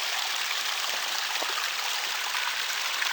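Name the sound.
small creek water flowing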